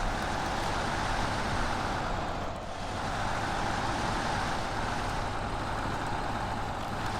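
A Pac Lunx mod truck in SnowRunner, with big tires and tall suspension, grinds forward in low range with diff lock, its engine a dense, continuous loud drone with only a brief dip midway.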